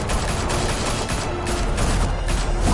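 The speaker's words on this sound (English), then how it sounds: "Open fire!" Police open fire in the Telltale Batman video game: a dense, continuous fusillade of rapid shots and booms fills the whole stretch at steady, loud volume with no pauses.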